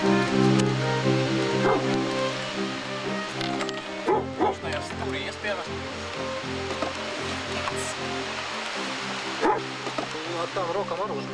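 A dog barks and yips in short bursts with some whimpering, heard over steady background noise and ongoing talk.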